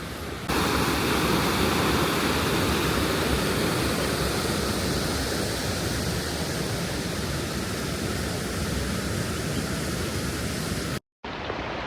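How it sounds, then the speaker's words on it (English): A strong river current rushes toward a jungle waterfall in India, a steady, loud, broadband roar that holds unbroken for about ten seconds before a brief cutout. "Look at how strong this current is here."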